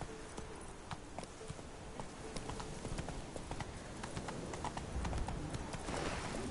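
Hooves of Roach, Geralt's horse in The Witcher 3, clip-clop at a steady trot, fairly close and continuous over a bed of outdoor ambience with no talking.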